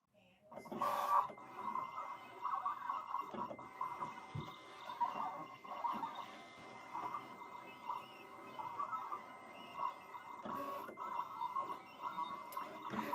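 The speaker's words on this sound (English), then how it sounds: "So I'm going to go ahead and click send to cutter." A Siser Juliet vinyl cutter slices heat transfer vinyl at a slow cut speed, giving a steady mechanical whir with shifting motor tones and occasional short clicks, running continuously and fairly quietly throughout.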